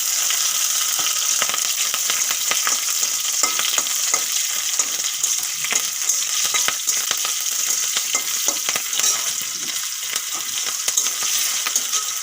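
Garlic and split green chillies fry in hot oil, producing a dense, continuous crackling sizzle with rapid tiny pops and occasional faint clinks, close-miked and steady with no voices.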